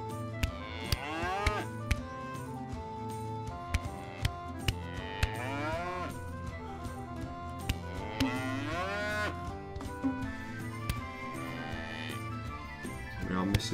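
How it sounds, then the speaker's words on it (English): Cows mooing in the video game First Feudal, several drawn-out calls overlapping one another against a busy game soundscape with sharp periodic clicks. "Take these cows out."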